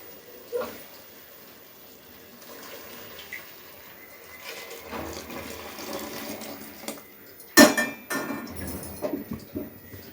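Hot water splashes as it pours into a metal pot, followed by a sharp clank and some clattering of cookware in a quiet kitchen.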